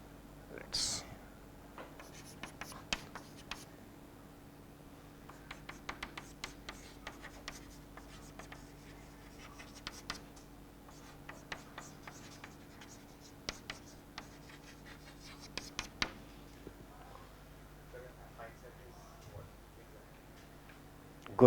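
A pen scratches on paper in a quiet lecture room, in faint intermittent strokes and small taps spread over about twenty seconds above a low room hum.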